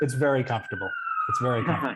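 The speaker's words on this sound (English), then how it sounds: "sorry for the sirens" A New York police siren wails steadily in the background of a city street while two people talk close by.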